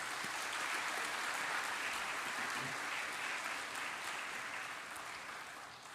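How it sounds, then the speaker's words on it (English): Sustained, steady applause from an audience honouring awardees at an education ministry award ceremony, a full crowd clapping for six seconds and fading slightly at the end. "let's put our hands together for all our awardees at this time"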